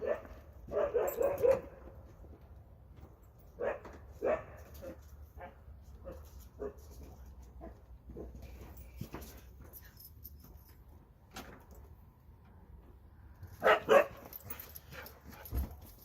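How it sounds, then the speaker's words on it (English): A dog in a garage where a 2004 Toyota Corolla is being worked on gives scattered short barks and whimpers, with a few louder yips near the start and end and quiet gaps between. "dog almost tripped me again"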